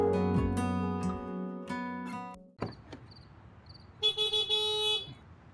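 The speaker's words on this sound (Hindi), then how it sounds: "अब हॉर्न बजाते रहेंगे, भै भै भै भै भै भै।" A car horn blares in a few short honks over a harmonic musical tone, with traffic noise behind it.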